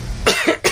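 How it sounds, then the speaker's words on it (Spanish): A person coughs twice in quick succession during a talk, loud and close, with harsh bursts separated by a short pause. "Tengo, eso sí, una tos"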